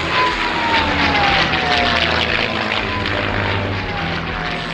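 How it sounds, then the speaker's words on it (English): Propeller-driven P-51 Mustang fighter plane flying, a loud, steady engine roar with a slowly falling pitch sweep across the whole stretch, no voices. "I got the latest model P-51 here"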